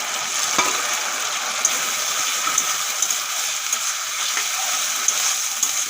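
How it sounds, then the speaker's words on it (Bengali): Shrimp coated in turmeric and salt frying in a pan, giving a steady, fairly loud hiss and sizzle with a few faint ticks from stirring, with no voices. "চিংড়ি মাছ ভেজে নিয়েছি একটুক্ষণ"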